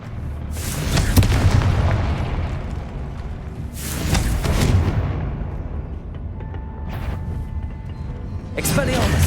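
A Confringo blasting spell in the Hogwarts Legacy video game sets off heavy booming explosions, several loud blasts with rumbling tails spread over the stretch, with a voice shouting amid the noise.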